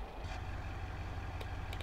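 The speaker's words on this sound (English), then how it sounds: "I think they changed the sounds of the car." A car engine in BeamNG.drive on the Italy map, after a sound update, gives a steady low rumble that holds loud and close throughout, with a couple of brief higher clicks near the end.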